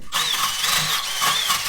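A wire wheel scours a broken-off stud and surrounding metal on an abandoned Mazda Miata before welding, a loud, continuous, close whirring grind with a wavering high whine.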